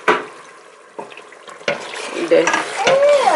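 Onion and ginger frying in a pot for a Ghanaian beef stew, with a few stirring knocks followed by a building sizzle and some watery clatter.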